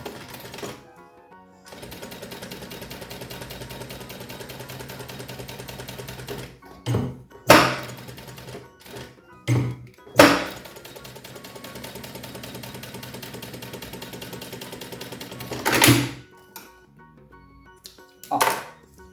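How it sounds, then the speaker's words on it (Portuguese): Sewing machine running a seam around the edge of a silicone pouch case, steady mechanical stitching hum with brief pauses and a few louder clicks and handling knocks, close by with no talk. "eu vou fazer uma costura em toda a volta para prender ele"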